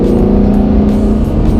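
A Lamborghini Huracan drives with its exhaust closed in California, giving a steady, smooth engine drone that stays loud and even throughout.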